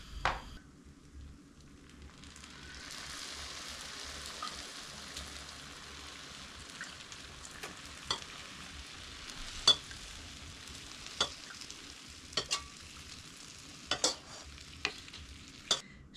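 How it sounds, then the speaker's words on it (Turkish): Lukewarm syrup is poured over hot, freshly baked baklava, making a steady, soft sizzling hiss that swells and continues throughout, with scattered small crackles and pops and no voices. "Şerbetimiz de ılık olacak şekilde hemen şerbetliyoruz."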